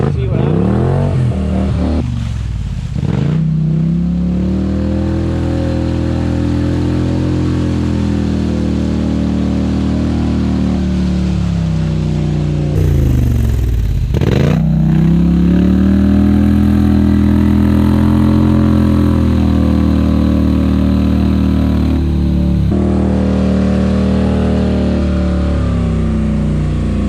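An ATV on mud/trail tires crawls slowly through mud, its engine droning loudly close by, revving up and easing off several times as it pushes through, with a person talking over it.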